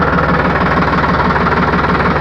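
A tractor engine runs loud and close, a continuous throbbing diesel rumble with a steady rapid knocking pulse and no change in pace.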